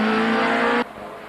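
Audi and Opel Vectra touring race cars at Kyalami race past side by side, a loud, high engine drone that cuts off abruptly and leaves a quieter background.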